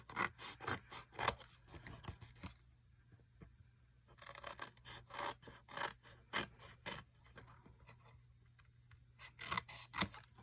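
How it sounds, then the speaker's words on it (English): Repeated crisp scissor snips cutting paper, close up, coming in quick clusters with short pauses between runs of cuts. "just take my scissors and just snip it"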